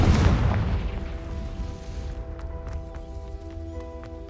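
The Confringo spell from Hogwarts Legacy lands as a loud booming explosion at the start, then decays into a ringing, fading rumble.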